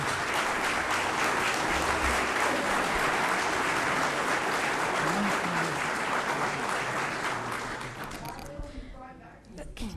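Dense, sustained audience applause fills a meeting hall, loud and continuous for most of the stretch before thinning out near the end as the clapping dies down.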